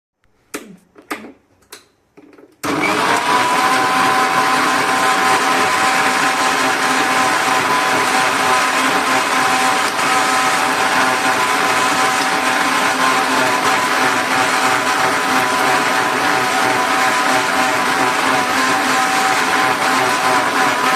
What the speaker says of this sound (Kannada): ಈಗ ನೋಡ್ರಿ ಮಿಕ್ಸಿ ಮಾಡ್ಕೊಂಡು ಬಿಡೋಣಂತ್ರಿ ಇದನ್ನು